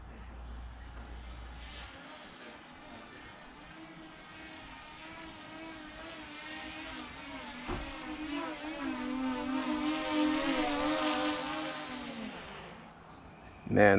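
A DJI Mavic Pro drone at full throttle gives a thin, rising propeller whine that swells louder as it closes in, then fades, with a brief thump near the end.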